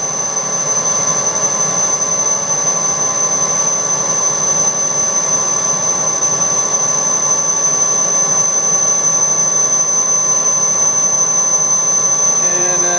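Metalworking lathe turning at 710 RPM while cutting material in a relief pass, a steady loud machine drone with a constant high whine running unbroken throughout.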